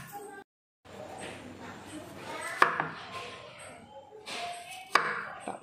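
A knife cuts broccoli on a kitchen board in a home kitchen, with two sharp knocks and a scatter of softer clicks under someone talking.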